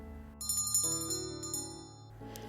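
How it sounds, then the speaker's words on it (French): A small bell pulled by a cord gives a faint tinkle, a bright ringing chime that sustains and fades softly, followed by a quieter second ring. "mais si doucement que cela ne produit qu'un léger tintement que personne n'entend"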